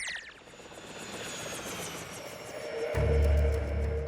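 A cartoon robot helicopter named Blades flies overhead with a steady rotor whir that grows louder near the end as a deep rumble rises under it.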